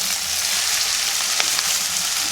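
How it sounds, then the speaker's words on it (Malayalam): Tomato, onion and beef fry together in a pan for a beef fry, giving a loud, continuous sizzle and crackle with a few brief stirring clicks and no talk. "തക്കാളി, ഉള്ളി, ബീഫും എല്ലാം കൂടെ മിക്സ് ചെയ്തിട്ട്"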